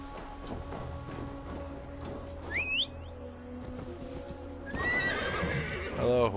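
A horse in Assassin's Creed Valhalla clip-clops steadily, then lets out a whinnying neigh midway and another rising whinny near the end, with a faint game ambience underneath.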